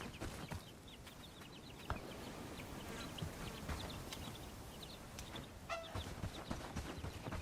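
Chickens cluck softly in the Bellwright video game, scattered short calls repeating over a steady background ambience of the game world, with no talking.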